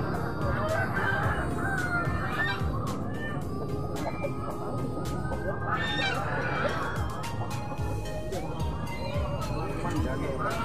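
Bangkok roosters crowing amid the steady hubbub of a busy outdoor market in Kalisat, the calls rising over constant crowd noise, clucking and distant honks.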